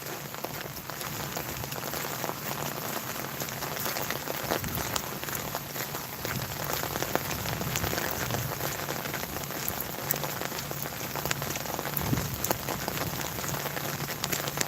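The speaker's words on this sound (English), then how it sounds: "We're almost to our 15-minute rain walk" Rain patters steadily on surfaces during an outdoor walk, a dense close crackle of drops with faint footsteps and rustling mixed in, continuing without a break.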